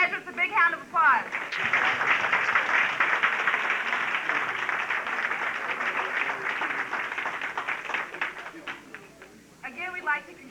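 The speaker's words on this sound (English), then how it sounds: "Let's give all the graduates a big round of applause." A crowd at a 1986 vocational training center graduation ceremony in St. Louis claps steadily for the graduates, a dense, sustained wash of applause lasting most of the stretch, with a voice speaking at the start and end.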